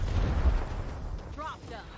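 A frag grenade blasts in Gears Tactics as a deep, heavy boom at the start, fading into low rumble, followed by brief voice-like sounds near the end.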